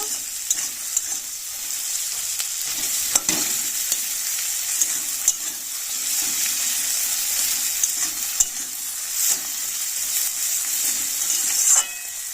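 Egg curry with tomatoes sautés in a pan under a constant bright sizzle, while a spatula stirs with scattered sharp scrapes and knocks against the metal, close and fairly loud, without speech.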